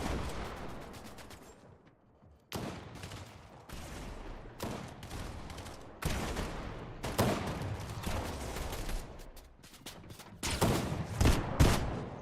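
Rapid gunfire in the battle royale game Fortnite, with repeated bursts of sharp shots crackling in clusters, a short lull, then sustained volleys growing louder toward the end, loud and close.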